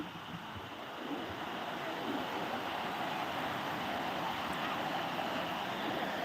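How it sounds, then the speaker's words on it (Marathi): Continuous broadband roar of sea surf washing onto Palande Beach near Harnai, Dapoli, Konkan, growing slightly louder after the first second, with wind-like hiss and no speech. "लाटा किनारा सुंदर असा समुद्र किनारा"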